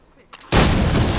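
A sharp pistol crack followed by a loud, sustained explosion roar from the Assassin's Creed 3 video game, the blast bursting in abruptly and rumbling on at full strength.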